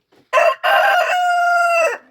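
A large rooster kept with laying hens on a small farm crows once up close, loud and hoarse: a short opening burst, then a long drawn-out call that fades off at the end.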